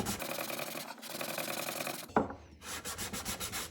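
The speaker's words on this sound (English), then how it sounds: "I'm basically sanding that wenge down." Steady back-and-forth rasp of sandpaper on wenge wood by hand, close and continuous, pausing briefly with a light knock before resuming in shorter strokes.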